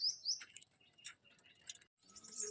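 Pigeons, including Capuchine and Lotan breeds with new chicks, in a home coop, giving faint, scattered high chirps and small ticking sounds at close range, with quiet pauses between.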